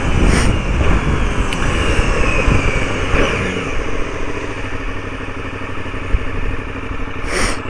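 A KTM Superduke motorcycle that has trouble idling, its engine revving hard and loud up close, a sustained throaty roar that falls back toward a rough idle, with no talk over it.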